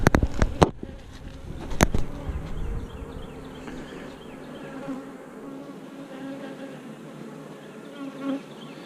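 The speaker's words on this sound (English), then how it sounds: "Bees are usually a little more pissy in the shade." Honey bees hum in a dense, steady swarm around a shaded hive in March, with a few sharp knocks and clicks from hive work at the start.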